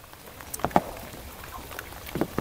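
Rain falling in a steady, soft wash of patter, with a few brief, louder drops standing out near the start and end.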